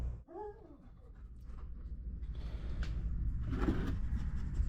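A dog at a trailer park whimpering with a brief high whine near the start, then panting and rustling close by, faint and continuous over the rest.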